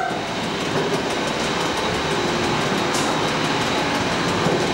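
An Italian ALN diesel railcar runs along the line between Edolo and Brescia, a steady loud rumble with rhythmic clickety-clack from the track joints, heard from onboard without any talk.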